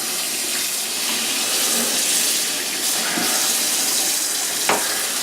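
Paint brush rinsed under a running kitchen tap during painting cleanup, a steady broadband rush of flowing water close by, with a brief knock near the end and no talk.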